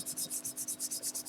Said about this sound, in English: I'm just buffing the wax.